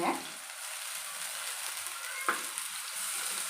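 Tomatoes and green chillies fry in a pan with a soft, continuous hiss, broken by one brief scrape of stirring partway through.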